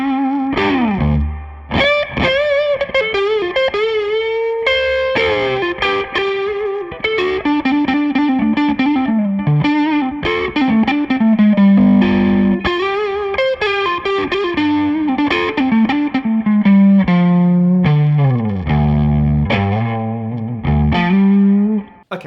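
A fat-sounding Stratocaster-style guitar tuned down to D plays sustained melodic lines and chords through a bright, fairly clean amp setting, loud and continuous with no speech.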